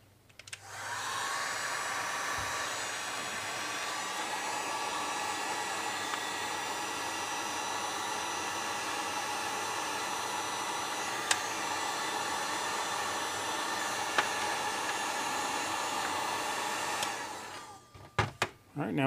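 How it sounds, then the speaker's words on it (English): A heat gun blows steadily on shrink wrap over solderless wire connections, a loud continuous rushing hiss lasting over fifteen seconds before cutting off with a few clicks. "Now I'm going to get the heat gun."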